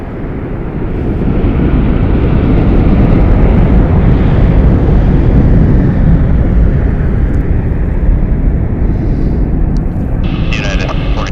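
A Southwest airliner departs runway 1 right at Las Vegas with a loud, sustained broadband jet roar. The roar swells in the first seconds and holds steady, with faint chatter near the end.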